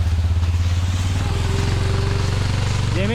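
Dirt bike engine running at steady revs on a rocky trail, a continuous close, loud motor drone with a rising pitch sweep near the end as the throttle opens.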